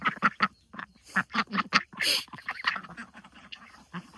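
Ducks, small ducklings among them, quack in quick bursts while feeding near a river, the calls close, clear and overlapping, with one louder honking squawk in the middle.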